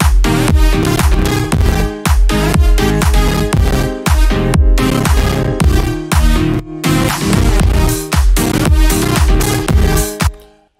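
Instrumental track from a produced song, full mix with punchy drums and bass: loud, dense beat with steady rhythmic hits and sustained tones, brief dropout near the middle, ending abruptly with no voices.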